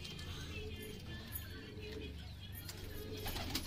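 A pigeon in a breeding loft gives soft, low coos close by, with a brief rustle like wing movement and faint background murmur throughout.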